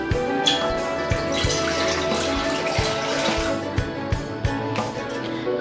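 Water pours steadily into a karahi set on a stove for chicken karahi, a continuous splashing, running stream with faint clinks, close and fairly loud with no talk.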